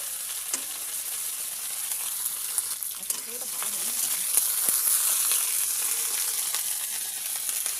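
Fresh, unsteamed cauliflower frying in a pan, a steady bright hiss of sizzling oil with occasional soft clicks and scrapes of stirring, with faint voice in the background.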